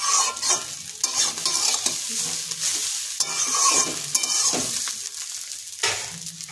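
Chow mein fries in a hot pan, bright sizzling broken by repeated scraping and stirring strokes that surge and fade in uneven bursts, close up, with no talk.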